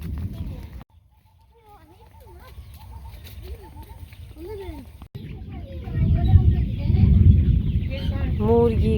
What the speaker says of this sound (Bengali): অনেক মুরগি ভর্তি, ফার্ম ভর্তি মুরগি